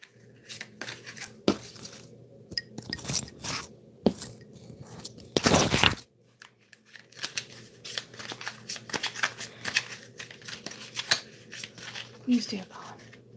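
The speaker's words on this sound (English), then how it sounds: "give me a second to shuffle, and I'm saying prayers as I'm shuffling" Tarot cards pulled from three different decks are shuffled by hand in quick, papery bursts of riffling and flicking. The bursts come in an irregular rhythm, with one longer, louder flurry midway.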